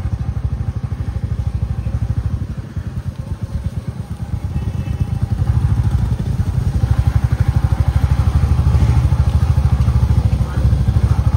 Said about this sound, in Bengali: বিশাল ফার্স্ট টাইম রয়্যাল এনফিল্ড চালাচ্ছে।